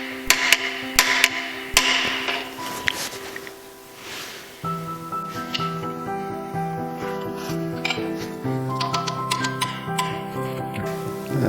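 Hammer taps drive a seal slightly into the housing of a Porsche 902 transmission during final assembly, a run of sharp metallic knocks early on, then clanging, ringing metal and workshop handling.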